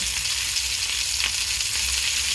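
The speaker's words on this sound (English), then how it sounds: "The olive oil will help to prevent the butter from burning. So we're just going to melt that." Butter melts in olive oil in a pan, giving a steady, close hiss and crackle of frying that keeps up evenly throughout, with no talking.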